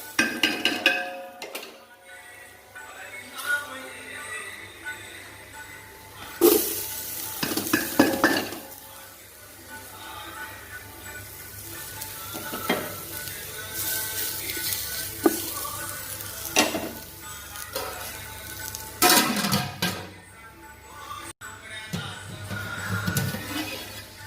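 Capsicum and beans sizzle in a pan while being fried without water for a no-chilli white kurma. A steady frying hiss runs throughout, broken by repeated scraping stirs and clanks of a utensil against the pan.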